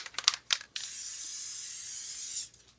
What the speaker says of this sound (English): What we're going to use on them is just the Gorilla Spray Adhesive, heavy duty